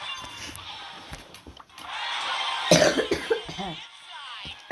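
Several sharp coughs in a short burst, close to the microphone, over a low background hum and scattered clicks.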